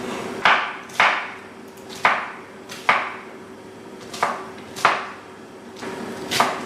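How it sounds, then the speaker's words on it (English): A knife chops through spring onion on a cutting board, giving about nine sharp, evenly spaced cuts in a steady rhythm, close and clear with no talking. "So we'll continue chopping the spring onion."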